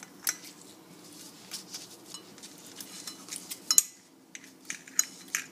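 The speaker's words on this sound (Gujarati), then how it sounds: "કિચન સીઝરથી" Kitchen scissors snip a roti into small pieces, giving sparse, light, close-up metallic clicks and cuts scattered over a quiet background.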